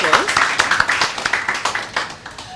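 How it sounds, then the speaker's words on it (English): An audience applauds at a book launch at the Dover Beach Hotel, a brisk burst of many hands clapping close by, steady and sustained through the moment. "A round of applause."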